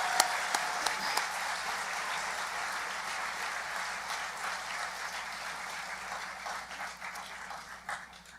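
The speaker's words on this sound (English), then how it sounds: "let's give ourselves a round of applause" A graduating high school Class of 2021 applauds itself at its graduation ceremony, a steady wash of clapping that stays fairly even for several seconds and then thins toward the end, with a few sharper claps early on.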